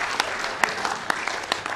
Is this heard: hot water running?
no